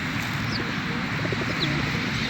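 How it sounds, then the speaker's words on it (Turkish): Soft, low cooing of wild pigeons repeats against a steady background hum, the gentle burbling calls close by and unhurried. "bu yabani güvercinleri besliyorum"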